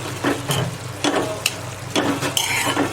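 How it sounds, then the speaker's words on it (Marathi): Cluster bean vegetable with salt and grated coconut stirred in a pan, a spoon scraping and turning in short repeated strokes against a soft sizzle, close by. "आता व्यवस्थित मिक्स करून घेऊया."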